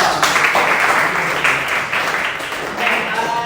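Students applauding together in a classroom during a teacher performance assessment lesson on energy and power, a steady burst of clapping with a few voices mixed in.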